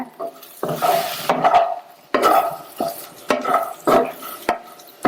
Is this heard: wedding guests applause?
no